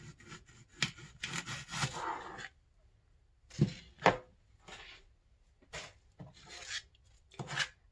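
A knife slices through an onion on a cutting board in a home kitchen, with several short crisp cuts and scraping strokes spaced apart, close and fairly quiet, no talking.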